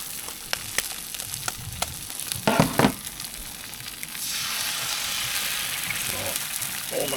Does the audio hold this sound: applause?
no